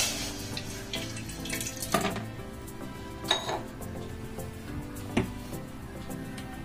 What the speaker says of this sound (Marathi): आता आपण एका टोपामध्ये थोडस पाणी टाकून घेणार आहोत।